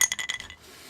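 Glasses clink together in a festive Christmas toast: a quick run of bright, ringing chinks that fade away within half a second, close and clear with no talk over them.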